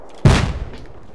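Single loud gunshot in the survival video game Rust, one sharp close blast with a short rumbling tail.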